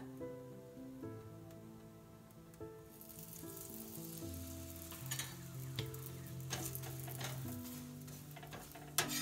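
Methi paratha, a fenugreek-leaf flatbread, crackles in a little oil in a pan, a light close sizzle with scattered pops that grows busier partway through, under soft background music.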